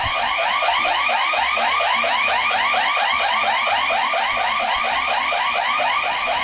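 Continuous warbling alarm sounds nearby, loud and steady, its rapid repeating pitch sweeps cycling without pause and no voices over it.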